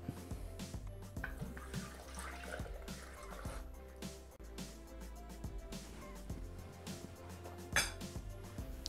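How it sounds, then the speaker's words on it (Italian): Milk is poured into a Thermomix bowl while making zeppole, a faint, soft splashing gurgle with small clinks nearby. "Versiamo il latte"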